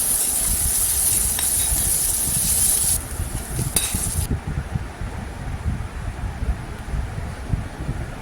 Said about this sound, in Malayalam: കുറച്ച് സവോള വെളുത്തുള്ളി ഉണക്കമുളക് ഇത്രയും ചേർത്ത് നന്നായിട്ടൊന്ന് വഴറ്റി കൊടുക്കുന്നുണ്ട്